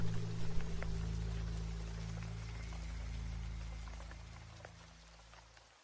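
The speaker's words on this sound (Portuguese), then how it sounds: "até que chove assim como hoje, e eu lembro do que vem com as tempestades" Rain falls steadily during a storm, a dense hiss of drops pattering on surfaces with a low rumbling undertone, fairly loud and continuous, easing slightly toward the end, with no voices.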